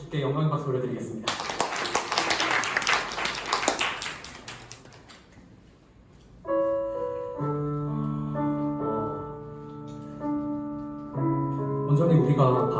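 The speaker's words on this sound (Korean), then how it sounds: "영광 받으실 주께 영광의 박수 올려드리겠습니다." Worship congregation at a joint service applauding together, a dense broadband burst of many hands clapping for a few seconds, fading out before sustained keyboard chords take over.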